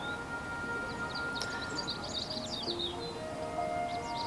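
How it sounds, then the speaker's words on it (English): Small birds in the video game Heartopia chirp and twitter in quick bright bursts over a steady low ambient background, fairly close and continuous, with no talking. "Get away, bird. Go, bird. Fly away, birdie."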